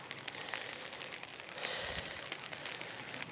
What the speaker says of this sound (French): depuis ce matin, il pleut plein pot